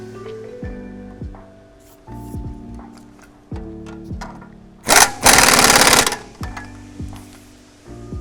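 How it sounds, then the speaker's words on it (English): A nut is tightened on the front suspension knuckle of a 2014-2017 Mercedes-Benz S550 AWD, with repeated ratcheting bursts, then a loud two-second buzz of a power tool, then more clicking. "Install the nut and tighten."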